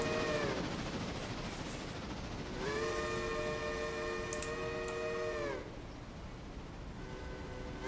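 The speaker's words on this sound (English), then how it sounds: "I love the deep throaty American-like whistles like this one." Deep, throaty American-style steam locomotive whistle from the Railroader video game, sounding as a two-note chime: a brief toot, then a long sustained blast, then another starting near the end, loud and clear with no talk.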